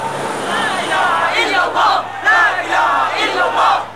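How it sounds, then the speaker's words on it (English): A large crowd of protesters yelling and chanting slogans in loud, overlapping bursts, with individual shouts rising above a continuous roar during a street rally where police sprayed chemicals. "Many ran into the mosque seeking refuge and screaming slogans."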